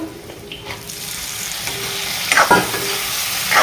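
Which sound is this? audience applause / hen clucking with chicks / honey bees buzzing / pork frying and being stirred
pork frying and being stirred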